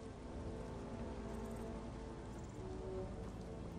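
Steady rain falls in the video game Skyrim outside a city with a drawbridge at night, a dense, even hiss that holds level throughout with no talking.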